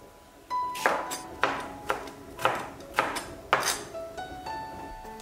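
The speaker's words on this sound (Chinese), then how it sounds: "再来准备一根青瓜，清洗干净，去头去尾，切成丝。" A cucumber, trimmed at both ends, is sliced into shreds with a knife on a board: six or so sharp close chops in an uneven rhythm, with faint kitchen ringing between them.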